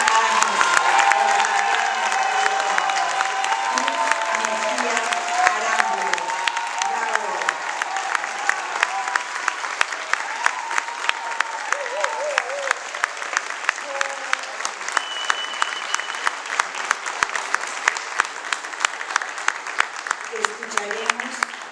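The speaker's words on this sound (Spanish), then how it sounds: "pido un aplauso para el autor de El Radio Radiante" A crowd at a book presentation breaks into sustained, vigorous applause, many hands clapping at a rapid, dense rhythm for about twenty seconds, with cheers and voices mixed into the roar.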